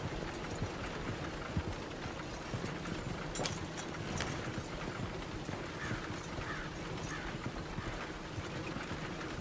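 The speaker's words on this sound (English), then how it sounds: "Look where you want to go and the horse will follow." Horse hooves clip-clopping in Red Dead Redemption 2, a quiet steady walking rhythm on a road, faint and continuous with light tack rattle and no talk.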